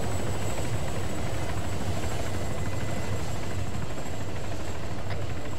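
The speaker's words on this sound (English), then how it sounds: "There's a medical chopper landing." A medical helicopter comes in to land in the military game Arma 3, its rotor beating as a steady, loud, dense drone that runs throughout with no voices over it.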